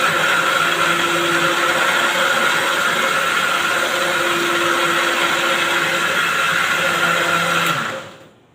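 A kitchen blender whirs loudly and steadily while blending ingredients for a Bengali home-cooked dish, then shuts off and winds down near the end.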